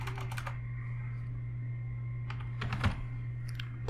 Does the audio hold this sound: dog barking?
no